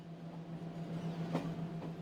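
A crowded overnight sleeper train in India pulls out of the station at dusk, a low steady mechanical hum and rumble with a couple of faint metallic clanks, distant and subdued.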